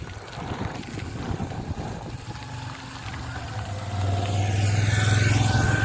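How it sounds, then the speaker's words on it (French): An Aston Martin motorcycle passes in an affluent city neighbourhood, its engine rising into a loud, sustained drone that swells toward the end, heard from nearby amid street noise. "Moto Aston Martin, les potes."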